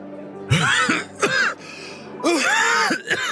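A man coughs and clears his throat in harsh, raspy bursts, close by, with a pause between two rough coughing spells.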